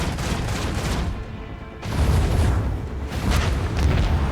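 Gunfire and heavy booms from the video game Rogue Trader, loud bursts of shots and blasts that fill the clip, dropping briefly near the middle before another dense volley.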